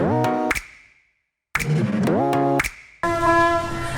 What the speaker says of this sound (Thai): เสียงรถไฟมาแล้ว